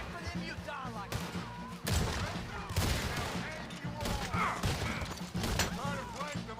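Gunfire from a Red Dead Redemption 2 mission at a fort: a dense fusillade of rifle and gun shots crackling continuously, with sharp bursts, under shouted voices and battle chatter.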